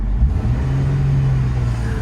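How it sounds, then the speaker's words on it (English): A Bentley Continental GT engine is given a little throttle and hangs, producing a loud, close, steady low rumble with a sustained deep hum and no clear rise in pitch. "let's give it a little throttle."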